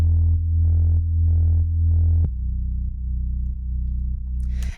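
A deep, sustained bass line sidechained to the kick swells and ducks rhythmically, pumping in steady pulses as the kick punches through, loud and up front with no voices.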